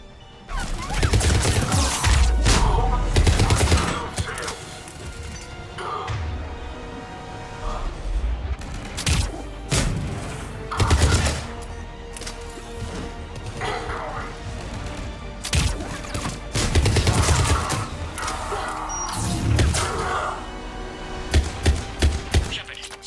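Combat in Mass Effect 3 with gunfire, sharp blasts and crashing impacts arriving in repeated loud bursts across the stretch, with voices heard between the shots.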